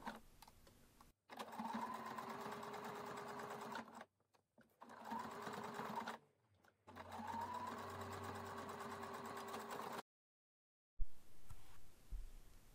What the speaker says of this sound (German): wird das einmal so schräg genäht auf jeder Linie